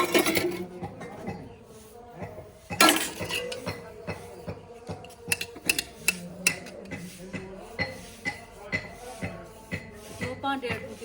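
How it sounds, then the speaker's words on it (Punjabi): Dishes, pots and cutlery clink and clatter in repeated sharp knocks and scrapes, close by, with a loud bang early on and steady shuffling handling. "ਸਾਫ ਕਰ ਲੂੰ ਪਹਿਲਾਂ ਭਾਂਡਾ"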